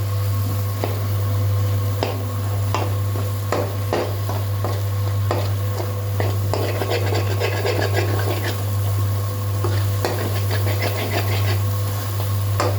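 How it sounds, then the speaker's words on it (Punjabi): Spice masala roasting in a pan for an eggplant dish, a dense continuous sizzle with frequent spoon scrapes and taps throughout, loud and close, under a steady low hum, no speech. "ਇਹ ਚੰਗੀ ਤਰ੍ਹਾਂ ਮਸਾਲਾ ਭੁੰਨਣਾ ਹੈ ਜੀ ਆਪਾਂ ਨੇ"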